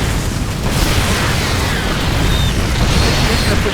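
Tanks being destroyed by roaches in StarCraft II: a loud, continuous wash of booming explosions and bursting pops with low rumble, unbroken throughout the battle.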